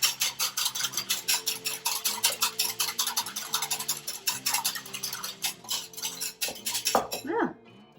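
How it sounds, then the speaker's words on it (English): Vinaigrette of maple syrup and sesame oil whisked in a bowl: rapid, steady rhythmic clinking and scraping of a utensil against the bowl, close and moderately loud, continuing for several seconds before stopping with a couple of final knocks. "I have all the ingredients in the bowl, so I am going to just mix it up. Make a nice vinaigrette."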